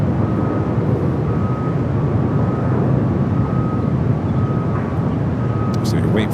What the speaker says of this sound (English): 777 freighter just north of Malibu. Should be maybe flying directly above us here